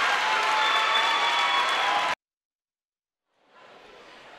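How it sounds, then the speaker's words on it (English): Crowd at a high school basketball championship final for New London High School, loud sustained cheering and applause that cuts off abruptly, then quieter crowd noise gradually returns after a brief silence. "And you hear the crowd react to the New London High School Whalers."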